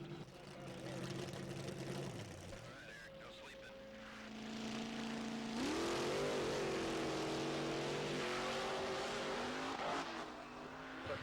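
Monster trucks roar around a racing track at an event, engines revving and surging continuously, loud and sustained with pitch sweeps as they accelerate, mixed with crowd or announcer noise.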